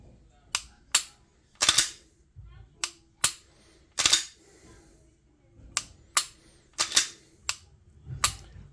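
Sharp dry-fire clicks from a Glock pistol's trigger breaking and resetting, about a dozen crisp snaps in an uneven rhythm, close and fairly loud with quiet gaps between.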